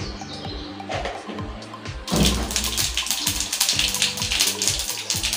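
Mustard seeds and urad dal crackle and pop in hot oil, a dense irregular spattering that grows suddenly louder partway through, with a low steady hum underneath.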